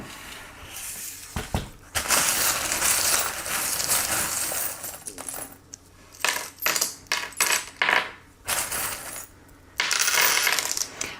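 Small metal charms tossed onto a surface for a tarot reading, giving loud close clinks and rattling scatters, first as a long jingle, then in several short separate bursts and pauses.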